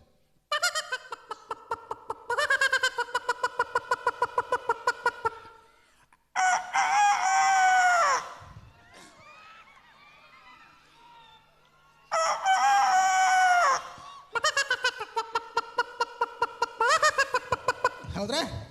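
A mimicry artist imitates a rooster crowing several times on stage, mixed with rapid clucking-like bursts and laughter, with short pauses between the calls.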